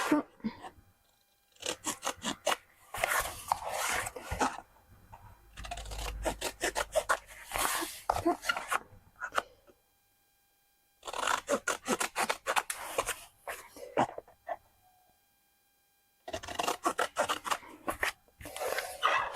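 Scissors cutting through paper and double-sided tape while assembling a scrapbook album structure, giving bursts of close crisp snipping and rustling in several runs separated by short pauses.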